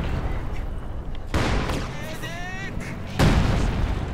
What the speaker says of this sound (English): Nice little barrels there from the field gun.